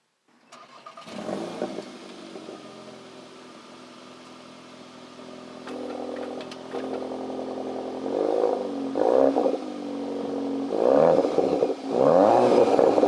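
Cupra Formentor ABT fitted with four Akrapovic exhausts, starting up and idling close to the microphone, then blipped through several deep revs that swell and fall back, growing louder toward the end.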